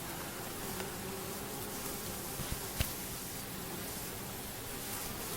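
Honey bees working at an apiary hive, carrying pollen, produce a faint steady buzzing hum heard at a distance, with a couple of soft knocks partway through.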